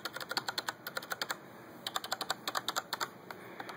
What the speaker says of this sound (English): These are Cherry MX Browns. Again, that's the noise that the Browns make.